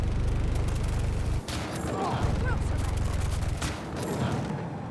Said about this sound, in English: Again, while aiming this cannon,